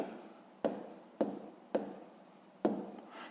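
Pen strokes writing a math solution by hand on paper, for a fifth-grade area exercise, as four short bursts of close scratching, each starting with a sharp onset and trailing off, with brief pauses between.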